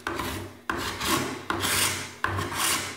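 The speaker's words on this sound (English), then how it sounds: "this is a Shinto rasp, and I would use something like this" A Shinto rasp shapes the end of a piece of juniper wood in four steady, close strokes, each a loud coarse scrape starting with a sharp attack and fading before the next push.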